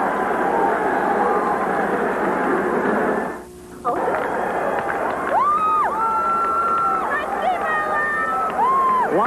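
A roaring arena football crowd in a Civic Center during a 1988 New England Steamrollers home game, a loud sustained cheer that briefly drops, then surges back under an announcer's voice.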